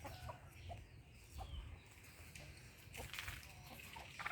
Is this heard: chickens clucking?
yes